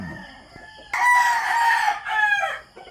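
A gamefowl rooster crows loudly and close by at a game farm, one long drawn-out cock-a-doodle-doo that rises and trails off, with a few faint clucks before it.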